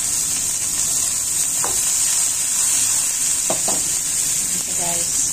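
Spring onion frying in a pan with ginger, a steady close sizzle and hiss running throughout, with a few brief scrapes of stirring.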